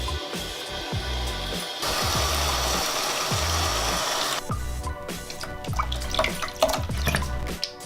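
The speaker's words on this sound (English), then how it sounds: "fill up this bucket with hot water" Hot water runs from a tap into a bucket, a steady splashing gush that changes tone as the bucket fills, ending in irregular drips and trickles, with no one talking.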